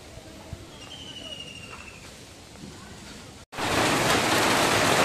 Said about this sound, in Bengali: তো অলরেডি বৃষ্টি শুরু হয়ে গেল